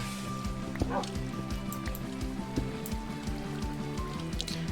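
A dog in Minecraft whines and yips after being hurt, with short, repeated game-animal cries sitting over steady background game ambience and pattering rain-like noise, moderately quiet and without talk.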